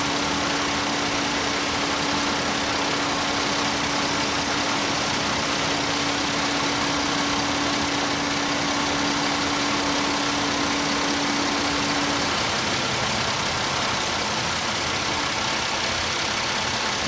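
Engine of a Chevy Venture van running at a steady idle, a constant close drone with a faint hum that stops partway through, no speech.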